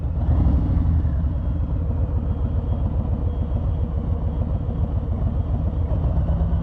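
A 2020 Harley-Davidson Low Rider S (FXLRS) V-twin idling close by with a steady, loping low rumble and light mechanical clatter as its EITMS mode switches.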